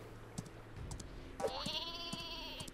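The sheep weapon in the Worms W.M.D video game bleats in a short nasal, wavering cry, preceded by light clicks and thumps of game sounds, moderately close and fairly quiet.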